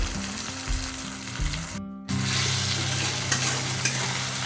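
Spices, chopped tomato and salt are stirred into pumpkin greens frying in a pan, giving a steady close sizzle with scraping stir strokes. A brief gap comes midway, and the frying then returns louder and more even, with no talking.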